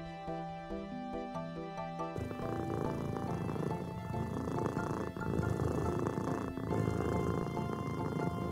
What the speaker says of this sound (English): All the purring.